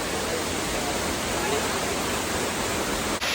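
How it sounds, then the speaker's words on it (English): Maunawili Falls in Hawaii roars steadily up close, a dense, unbroken rush of falling water filling the whole clip with no other sounds. "We made it to the falls. That's Maunawili."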